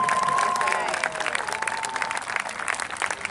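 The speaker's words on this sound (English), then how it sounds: "stand and clap for your parents, your aunties, your uncles, all your members who are here" Graduates at a high school graduation ceremony clap for their families, a broad wash of applause and cheering from a large seated crowd, steady and loud throughout with a faint tonal whistle early on.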